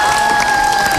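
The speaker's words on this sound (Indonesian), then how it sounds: "Tepuk tangan untuk mereka" Studio audience applause for the remaining contestants of a reality TV show, a brief dense burst of clapping and crowd noise with a steady tone running underneath.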